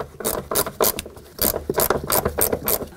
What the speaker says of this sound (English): I'm going to bring the longer ratchet in and just give them a little bit extra